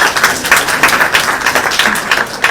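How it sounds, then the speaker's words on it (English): A school audience applauds two students after their English speeches, a dense, steady burst of many hands clapping close by for a few seconds. "Can we give both of these students a round of applause for their speech?"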